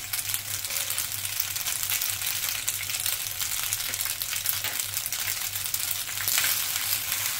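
Pasta frying with basil in a pan while being stirred gives a loud, steady, close sizzle and crackle that runs unbroken throughout, with no voices.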